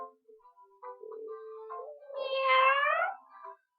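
Cat meow in an animated cartoon, a drawn-out rising and falling cry after some shorter tonal sounds, heard alone against silence; may be a voiced imitation.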